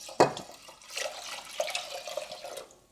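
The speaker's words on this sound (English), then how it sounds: "I'm going to add 800 ml of water." Water splashes into a pot of washed moong dal, opening with a sharp gush and then settling into a steady, moderately quiet pour with soft trickling, no voices.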